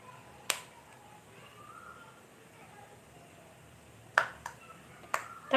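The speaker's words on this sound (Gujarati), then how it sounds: "તમે દાણા ફૂટવાનો અવાજ સાંભળી શકો છો." Peanuts roasting in a hot pan for a spicy puffed-rice snack give off a few sharp, isolated pops and crackles, spaced irregularly over a faint, quiet background hiss.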